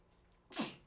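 A single quick, close sneeze bursting out of near silence, short and fairly soft.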